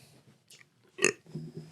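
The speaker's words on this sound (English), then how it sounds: "Sorry, I had to burp." A single loud, short belch bursts out from a person close by on a quiet podcast set, followed by a moment of low murmuring voice.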